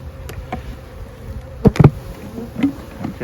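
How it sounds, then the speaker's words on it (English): Honeybees buzz inside a hive feeder, a close, wavering drone with a few louder passes as individual bees move near, brief and alone without talk. "Well, the bees are working their way up here."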